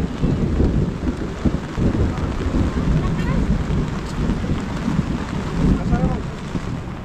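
Heavy rain pours steadily with a dense, close hiss, while thunder rumbles low underneath.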